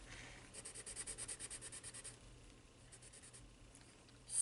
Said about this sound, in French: Vous continuez de mélanger et d'écraser vos pigments sur votre dessin.